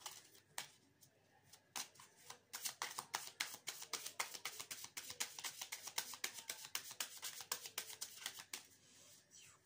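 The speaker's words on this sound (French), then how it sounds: "je vais faire une carte de précision avec l'oracle de la triade." Oracle cards are shuffled by hand for a tarot reading, a long run of rapid crisp riffling flicks in an uneven rhythm, close and clear with no talking.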